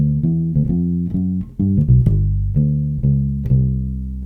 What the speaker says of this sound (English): have you ever listened to a walking bass line and heard some of those cool little triplet skips